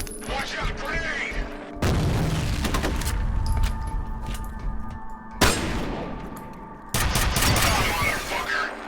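Loud blasts and chaotic gunfire in the video game F.E.A.R., with sudden booming bursts cutting in repeatedly and voices heard beneath the din.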